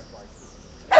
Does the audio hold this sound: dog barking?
yes